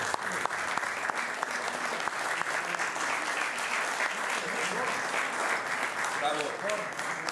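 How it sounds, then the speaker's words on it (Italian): An audience claps at an Italian book presentation, a lively, uneven burst of many hands with sharp individual claps standing out, while voices chatter underneath and a speaker briefly talks near the end. "facciamo un applauso"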